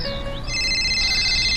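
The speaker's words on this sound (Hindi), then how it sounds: "वो इंस्पेक्टर का फोन।" An inspector's mobile phone ringtone plays as a steady, bright electronic ring that holds for the whole short moment, fairly loud and with no one talking over it.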